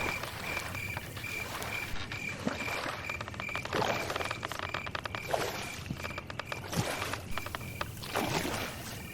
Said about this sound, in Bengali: মাঝি ভাই, একটু তাড়াতাড়ি চালাও, আজ বড় দেরি হয়ে গেছে।